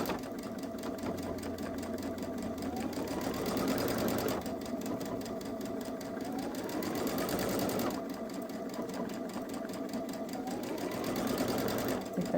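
A Babylock Solaris sewing machine darns a seam with the buttonhole foot, a steady, loud mechanical whir and needle chatter running continuously with slight surges in pace throughout.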